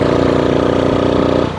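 A motorcycle engine revving hard at high RPM with a weak battery on a night ride, a steady loud, dense drone with a rapid pulsing beat throughout, close and alone.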